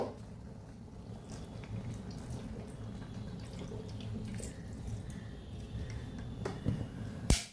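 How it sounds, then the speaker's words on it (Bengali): Hot water pours into a simmering pumpkin leaf stew, a faint, steady splashing trickle with a few drips and a soft clink near the end. "আর একটু জল দিয়ে দিই। আমি গরম জলই দেব।"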